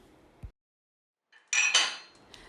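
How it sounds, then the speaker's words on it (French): Dishes being washed by hand with a sponge in soapy water, a short burst of clinking and scrubbing after a near-silent pause, fairly close and moderately loud, with no talking. "montrez à l'enfant comment frotter doucement la vaisselle avec l'éponge dans l'eau savonneuse"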